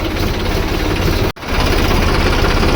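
A farm tractor engine running close by, a loud steady chugging rumble that cuts out for an instant midway and then resumes.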